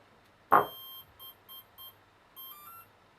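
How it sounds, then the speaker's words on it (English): A brushless motor's ESC, driven from a Raspberry Pi, sounds one strong beep followed by four shorter, quieter beeps and a final longer tone, close by in an otherwise quiet room. "Then the ESC played a long beep to say that it detected neutral throttle position."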